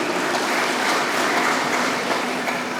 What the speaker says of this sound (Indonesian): Tepuk tangan Pak Bupati.